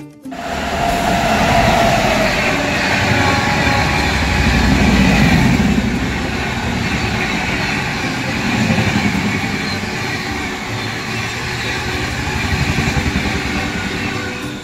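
Vivek Express train travelling from Ludhiana Junction towards Jammu Tawi: a steady, loud rumble and rush of a moving train heard from on board, with a swelling low roar throughout and no talking.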